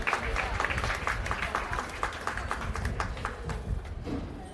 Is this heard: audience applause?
yes